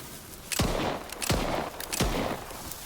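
Three heavy gunshots from a powerful weapon in the game S.T.A.L.K.E.R. 2 ring out about once every 0.7 seconds, each a sharp, loud crack with a booming tail, with no talk over them.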